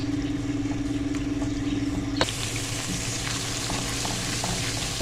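Ginger garlic paste fries in a pan with a continuous, fairly loud sizzle and stirring scrapes, close and steady throughout, with no talking.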